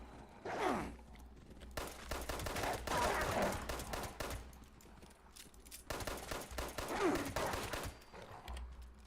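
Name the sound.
gunfire in the video game Fallout 76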